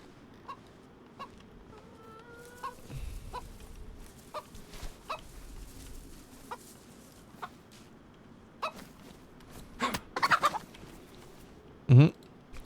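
A chicken in the video game DayZ clucks with a few short, fairly faint calls over a low background hum, and one louder burst comes near the end.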